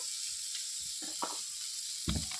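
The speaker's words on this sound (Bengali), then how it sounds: "মানে পেঁয়াজ আর রসুনটা ভাজা হতে থাক।" Onion and garlic fry in oil under a faint, steady high hiss of sizzling, broken by a few soft stirring scrapes and clinks.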